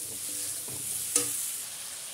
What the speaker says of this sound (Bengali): আমি কষিয়ে নেবো এখন ভালো করে